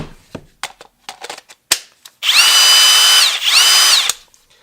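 Several sharp clicks and taps, then a Kobalt brushless cordless hammer drill with a 4 amp hour battery revs up loudly for about two seconds, dips briefly, and winds down, with a final click.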